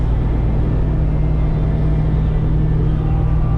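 Steady low engine rumble from the Edelbrock supercharged squarebody truck cruising on a road trip through Alabama, a loud continuous drone with no talk.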